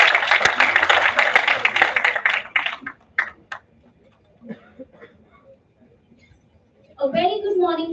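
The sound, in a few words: audience applause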